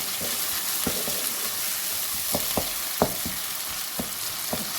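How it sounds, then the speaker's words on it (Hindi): Tinned tomatoes frying in a pan with onions give a steady, close sizzle, broken by occasional sharp clicks and scrapes as the mixture is stirred. "टमाटर जो मेरे टिन वाले हैं वो इसमें मैंने डाल दिए, और इसे डालकर मैं भून रही हूँ"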